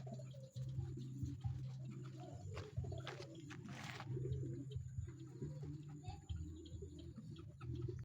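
Racing pigeons coo steadily in a low, repeated murmur, close by, with wings and rustling noise over a continuous background of birds.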